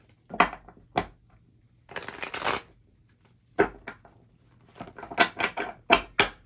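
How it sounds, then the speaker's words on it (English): Tarot cards being shuffled by hand during a reading, heard as several short riffling bursts and one longer rustling flurry, close and fairly quiet with pauses between. "let's go ahead and shuffle the cards for you"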